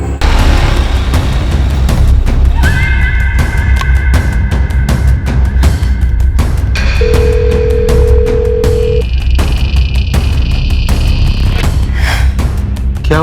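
Telephone call going unanswered, with a steady ringback or dial-type tone and short electronic beeps over a busy, continuous background; no speech.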